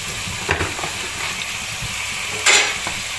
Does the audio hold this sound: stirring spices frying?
yes